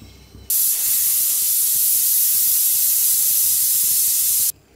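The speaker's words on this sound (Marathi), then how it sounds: "चला आता कुकरची शिट्टी गेलेली आहे." Pressure cooker whistle releasing steam while cooking soya rice, a loud continuous hiss that starts suddenly, holds steady for about four seconds at close range, then cuts off.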